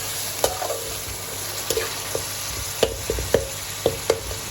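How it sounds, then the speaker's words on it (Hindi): Tomatoes frying in a pan with ginger-garlic masala for a Pakistani daal mash dish, a steady close sizzle broken by sharp clinks and scrapes of a spoon stirring at irregular intervals. "अभी इसमें हम ये टमाटर डालेंगे और टमाटर को नरम होने तक अच्छी तरीके से पकाएंगे।"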